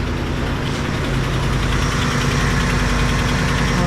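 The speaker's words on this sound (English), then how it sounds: "I wonder if you can hear that ticking on the video." Truck engine idling with a ticking noise, a loud, steady rumble close by with a fast, faint tick running through it.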